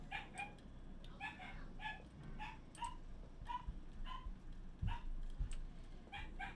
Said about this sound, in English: Please excuse the dog in the background